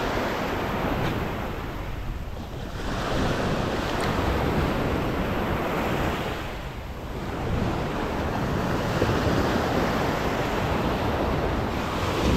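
Low sea waves wash onto the shore during lure fishing for bluefish, a loud continuous surf roar mixed with wind buffeting the microphone, swelling and easing in slow cycles.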